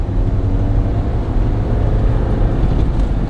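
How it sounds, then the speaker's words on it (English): A 2022 Ford Bronco Outer Banks drives along a back road with a steady, loud engine drone and low road rumble as the throttle opens, and no voices are heard. "We'll give it a little bit more gas."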